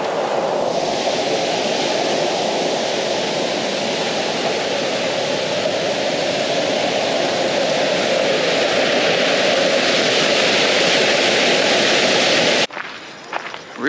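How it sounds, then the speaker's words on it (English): A waterfall on a small river roars as a steady, broad rush of falling water, loud and constant and close, then cuts off abruptly near the end. "There's a waterfall."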